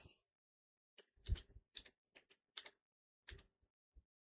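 Keys on a computer keyboard are tapped in short irregular bursts of crisp clicks, close and quiet, separated by pauses, with no talk.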